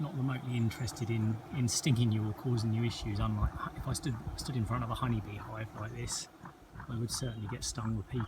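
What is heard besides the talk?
No distinct noise like a dog, phone or traffic.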